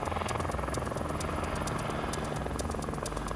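A rescue helicopter hovers steady over rising water in remote high country during a winch rescue. Its rotor gives a steady, rapid blade chop over a dense engine rumble, moderately distant, with no talk.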